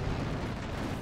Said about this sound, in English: We're going to completely ignore all this artillery.